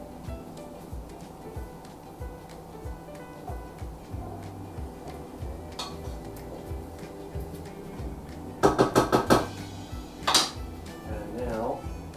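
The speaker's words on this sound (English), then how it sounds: "So we'll go ahead and add the chopped green chilies. Stir that around." A spoon scrapes and clinks against a pot while chopped green chilies are stirred into homemade queso dip, with a quick run of metallic taps near the end and a soft kitchen hum beneath.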